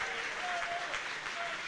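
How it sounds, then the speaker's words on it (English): Huddersfield Town supporters applaud from the stands at a pre-season football friendly against Stockport County, a steady wash of clapping that fills the whole moment, fairly close and loud, with a faint voice mixed underneath. "Gets a round of applause from the Town fans right in front of him there for the effort."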